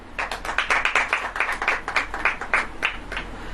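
A church congregation clapping in rhythm during a sermon, with sharp, regular claps from many hands, fairly loud and close, with no talking over it.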